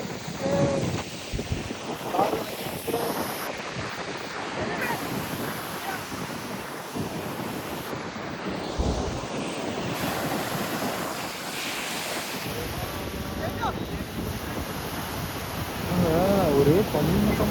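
Sea waves wash in at Pondicherry beach, a steady rushing surf with gusts of wind buffeting the microphone throughout, while a voice speaks now and then.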